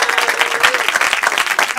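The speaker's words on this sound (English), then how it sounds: "Give another round of applause to staff" An audience at a live storytelling show called The Pickle gives the staff a round of applause, the clapping brisk, close and dense throughout, with some crowd voices mixed in.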